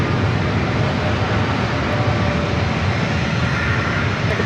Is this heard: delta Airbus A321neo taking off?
yes